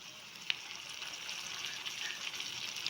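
Tomatoes added to browned onions frying in a pan for poondu kuzhambu, a garlic curry: steady bright sizzling hiss runs throughout, with a small clink near the start, close and fairly quiet.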